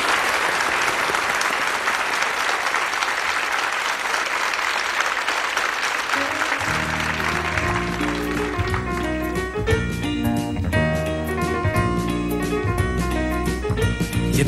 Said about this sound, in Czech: Výborně, potlesk.